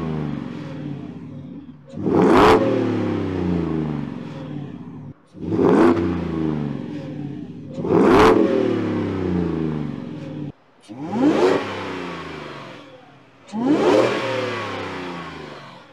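A supercharged 2023 Ford F-150 Lariat V8 engine revs hard five times, each surge roaring up and falling back to a rumbling idle between bursts, loud and close.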